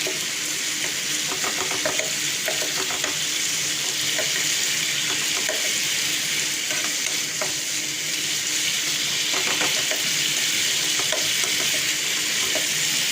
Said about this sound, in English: So our masala is frying away